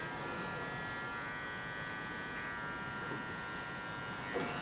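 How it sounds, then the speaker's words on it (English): An electric hair clipper buzzes steadily and softly while cutting hair clipper-over-comb on a pixie cut, a continuous quiet hum with no pauses. "Little clipper over comb just to take off the harsh edge."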